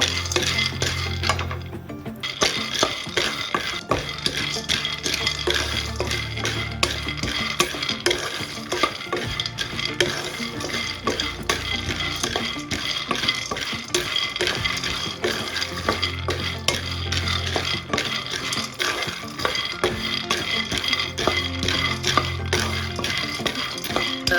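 Dry stirring and scraping of peanuts roasting in a pan over medium heat, a steady busy rattle of small pieces being tossed and moved, close and continuous with no voices.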